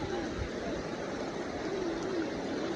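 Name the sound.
river flowing in the mountains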